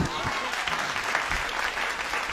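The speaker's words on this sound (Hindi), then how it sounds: "ताली बजा।" An audience claps in a continuous, dense burst of applause, loud and close, with no break from start to finish.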